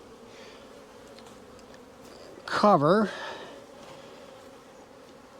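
Honey bees buzz at a queen cell builder hive, a steady low hum running throughout, while a person speaks briefly near the middle with a sharp, rising vocal sound.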